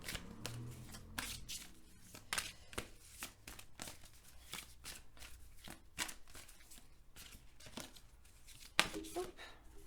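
Tarot cards being shuffled for a love reading, a series of crisp riffling and slapping bursts close by, with someone talking softly in between.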